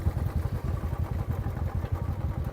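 A motorcycle engine idling and chugging at the top of Jot Pass on a mountain road, with a steady low, uneven pulsing throb close to the microphone and no talk.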